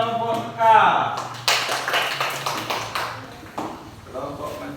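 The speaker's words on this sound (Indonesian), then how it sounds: "Bagus, tepuk tangan kelompok Mekah." A group of schoolchildren in a classroom clapping their hands in a short burst of uneven claps, following and mixed with a teacher's voice and other talk.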